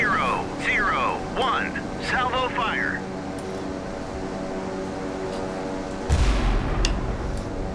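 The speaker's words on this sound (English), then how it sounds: "Now they're going to fire a ranging shot, so they've fired one of their barrels." A single ranging shot from one barrel of a battleship in the naval combat game Sea Power, a sudden deep boom late in the clip over steady ambient rumble, with a voice heard talking earlier.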